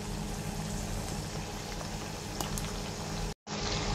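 Sweetcorn and tuna flakes simmer in their own released water, giving a close, steady bubbling and sizzling hiss that runs unbroken until a brief silent cut near the end.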